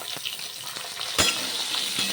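Mung dal frying in a pan gives a close, steady sizzle with a few soft stirring knocks and one brief louder crackle, no voices.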